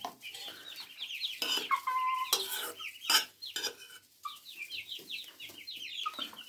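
A flock of Indian game (Hint) chicks cheeps and peeps busily and continuously while eating meat, with occasional clatter and scraping from something nearby.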